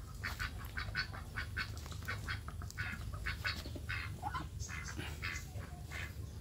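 Ducks, a large duck breed kept as ornamental and meat birds, quack repeatedly in a lively overlapping chorus, close and steady, over a low constant background hum.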